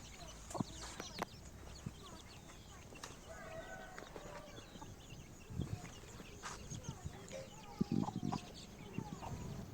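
A hen clucks in short, scattered bursts against a noisy outdoor background, with faint voices around.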